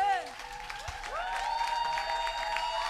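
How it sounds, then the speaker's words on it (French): A church congregation at a worship service applauds and acclaims, with steady clapping under sustained cheers and high ululating cries from many voices filling the room throughout. "est-ce qu'on peut acclamer le Seigneur?"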